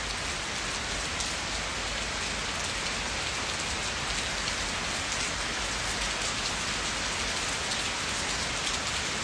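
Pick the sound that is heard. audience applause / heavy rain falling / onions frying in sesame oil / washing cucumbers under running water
heavy rain falling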